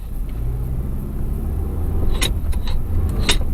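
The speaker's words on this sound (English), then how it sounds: "I'm going to drive around out here for a couple of minutes" A vehicle driven off-road gives a close, steady engine rumble, with a few bright rattles and knocks near the end, and no one speaking.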